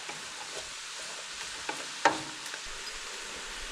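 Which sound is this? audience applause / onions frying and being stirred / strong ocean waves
onions frying and being stirred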